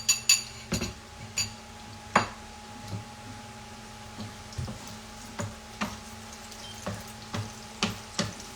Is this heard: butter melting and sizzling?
yes